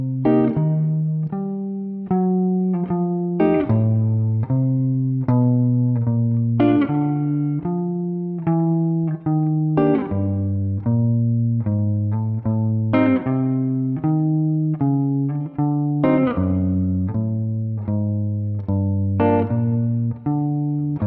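Guitar picking out a slow walking bass line mixed with chord tones, each plucked note and chord sounding in a steady even pulse, clean and close, with no talking.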